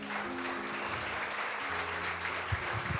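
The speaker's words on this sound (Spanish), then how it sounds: "Denle un aplauso al Señor" Congregation applauding in a church service, a steady wash of clapping with a low hum running underneath, moderately distant and fairly quiet throughout.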